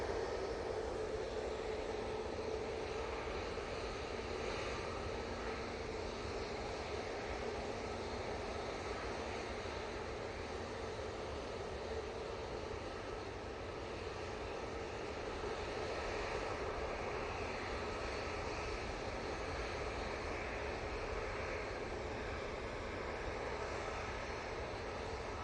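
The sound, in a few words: airplane approaching Manchester Airport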